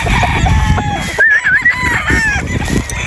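Broodstag gamefowl roosters crow loudly and close by. A wavering crow rises over a busy backdrop of clucking and other farmyard chicken noise, with brief overlapping calls throughout.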